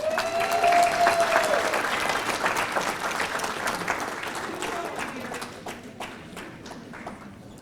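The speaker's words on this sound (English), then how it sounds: "let's give one big round of applause for all of our women's championship winners" Audience applause at a bowling association adult banquet honoring women's championship winners, sustained clapping from a crowd that swells early and slowly tapers off over several seconds.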